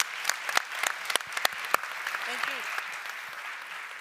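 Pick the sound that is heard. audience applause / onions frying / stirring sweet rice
audience applause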